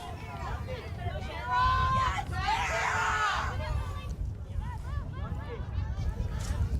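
Spectators at a high school girls soccer game between Trenton and Grosse Pointe North at Farrar Field keep up a steady murmur with scattered shouts and cheers, while a commentator talks over the crowd.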